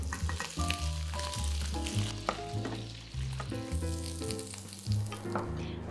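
Vegetables for pad kee mao stir-fry in a hot pan, a steady close sizzle broken by occasional stirring scrapes, with music playing quietly underneath.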